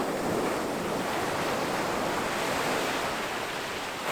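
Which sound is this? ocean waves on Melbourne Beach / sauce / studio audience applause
ocean waves on Melbourne Beach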